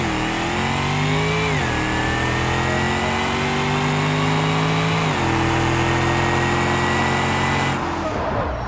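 A drag race car in BeamNG launches and accelerates hard, its loud engine whine climbing steadily with two clear gear shifts before cutting off near the end.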